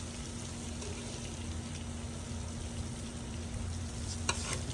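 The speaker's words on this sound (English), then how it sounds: "So we're gonna let that sizzle up in the curry." Steady frying sizzle of armored catfish eggs in curry, with a soft hiss and light crackling, close by, with no voices.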